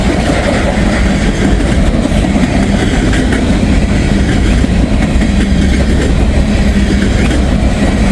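A fast freight train with big boxcars roars steadily past near a quiet cemetery, a loud, continuous rumble and rattling wheel noise filling the whole stretch without any voices.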